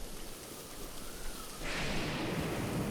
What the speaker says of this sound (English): It literally starts raining again.